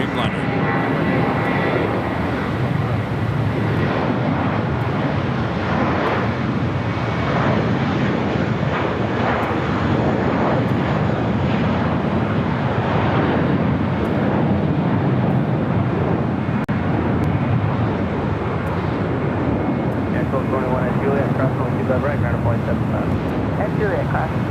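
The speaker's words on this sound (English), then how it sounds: "Virgin Atlantic Flight 141 coming up from London Heathrow, 787-9 Dreamliner." A Virgin Atlantic Boeing 787-9 Dreamliner arrives at LAX from London Heathrow, its loud, continuous jet engine roar steady and close the whole time, mixed with wind noise on the microphone.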